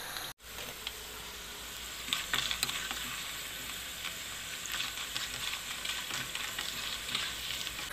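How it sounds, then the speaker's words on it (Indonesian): Onion cake dough frying in oil over low heat, with a steady close sizzle and crackle and occasional brief scrapes, continuous throughout with no talking. "Ini aku goreng pakai api kecil ya, guys."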